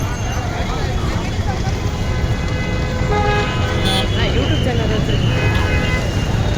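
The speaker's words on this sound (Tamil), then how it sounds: "சத்தியமாக செம்ம டிராஃபிக் நிற்குது." Dense, loud road traffic near Prayagraj railway station during the Kumbh Mela, with engines rumbling and several car horns honking, plus a faint babble of voices in the background.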